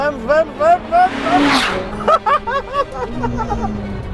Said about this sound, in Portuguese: Entramos na curva, médio gás, temos 720 cavalos, vamos!